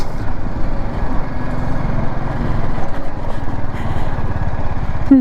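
A BMW 310 GS motorcycle travels a hill road near Kasauli, its engine chugging in a steady, close pulse with wind rush, rising slightly in intensity toward the end, no one speaking.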